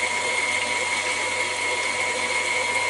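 Electric mixer beating white chocolate macadamia nut cookie batter, a steady, continuous mechanical whir with a bright whine, running evenly and close throughout without pause.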